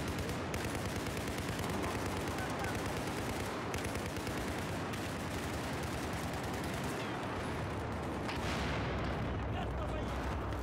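Dense, continuous gunfire and artillery-like booms from the Battlefield 4 video game on the Operation Locker map, with loud overlapping shots filling the whole stretch and some voice chatter underneath.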